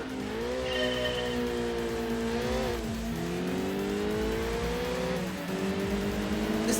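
Unmuffled engine of a race car with no exhaust fitted, driven at Red Rock Valley in Gran Turismo 2, loud and continuous with the pitch rising through each gear and dropping at shifts, with brief tire squeal.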